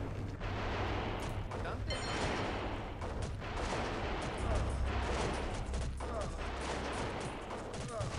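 Cannon artillery booms repeatedly amid dense, continuous battle noise in the America: No Peace Beyond the Line strategy game, with a person talking over the fighting.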